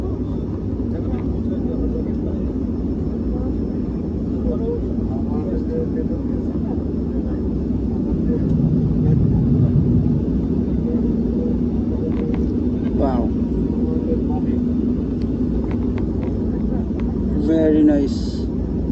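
A fixed-wing airplane lands at Saidpur airport in Bangladesh, a steady low engine roar that swells slightly midway while someone talks over it and others chatter nearby.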